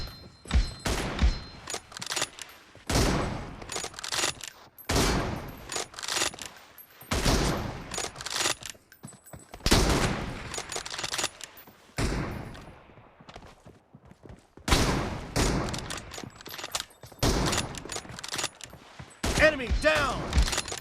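Gunfire from a team-based shooter video game, with bursts of shots recurring through the match and in-game speech over parts of it, loud and close throughout.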